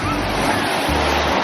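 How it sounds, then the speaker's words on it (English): Ocean waves crash on Ruby Beach, a loud, close, sustained roar of surf and rushing water filling the short span without a break. "Oh no, the water's coming."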